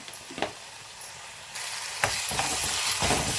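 Ginger garlic paste frying in oil for a Kolhapur-style green gram dal with garlic: a close, steady sizzle that grows louder partway through, broken by occasional scraping stirs, with no voices.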